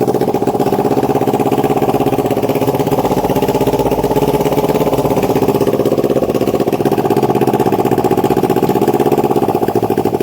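A Kawasaki Ninja 250R motorcycle engine runs with no exhaust fitted, giving a loud, steady, raw idle with a rapid continuous firing pulse throughout.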